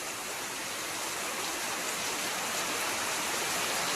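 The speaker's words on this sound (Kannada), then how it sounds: "ಮಳೆ ಬರ್ತಾ ಇದೆ, ನಾವು ರೆಡಿಯಾಗಿದ್ದೇವೆ, ಬಟ್ ಮಳೆ ಬರ್ತಾ ಇದೆ." Rain falling steadily, a dense even hiss of drops that stays constant throughout with no voices.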